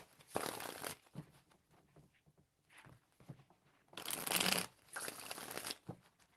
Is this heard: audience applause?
no